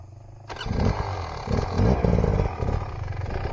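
A motorbike engine roars as it claws up steep rock, revving hard in surging bursts after a quiet start, with clattering from the tyres and frame against stone.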